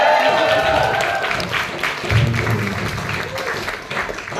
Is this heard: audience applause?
yes